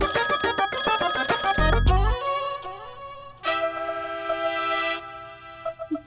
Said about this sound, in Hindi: ये हमारा फोन है, 2 बार बज के कट हो जाता है।